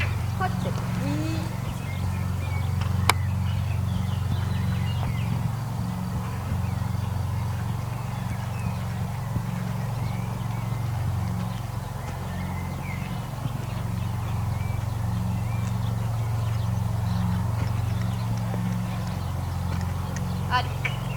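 A young horse trots in its first ridden session, with soft steady hoofbeats under a constant low outdoor hum. A voice is heard now and then.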